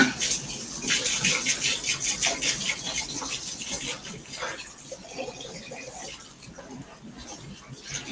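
Tap water runs steadily while a cleaning item is rinsed in a house, with a splashy, fluctuating flow that eases slightly toward the end.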